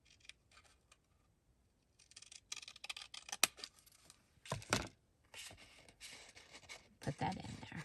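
Scissors snip through paper scraps for a mini folio made from bank envelopes, sounding as close, irregular bursts of cutting separated by short quiet pauses.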